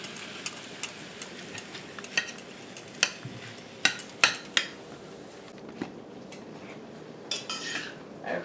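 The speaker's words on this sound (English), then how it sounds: "we're continuing to stir the ground beef and let everything break up and brown nicely" Ground beef browning in a pan while being stirred and broken up: a low sizzle under irregular sharp clicks and scrapes of a utensil on the pan, close by, with no talking.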